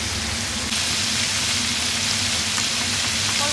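Spices frying in a pan for Bengali prawn malai curry, a continuous dense hiss of sizzling oil, loud and close, steady throughout with no speech.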